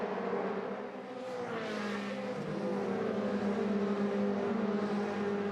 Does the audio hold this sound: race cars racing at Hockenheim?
yes